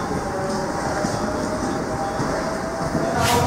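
Train noise at Asker station near Oslo, a steady rumbling rolling drone that holds level throughout with a brighter hiss rising at the very end, surrounded by busy platform ambience.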